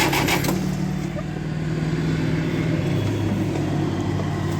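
A 1958 Oliver 550 diesel tractor engine cranks over steadily with a continuous low, rough mechanical churn, loud and close, running throughout without pause.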